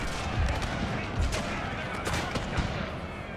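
Cannons fire canister shot in the Total War strategy game, several dull booming thumps spaced about a second apart over a constant battle din.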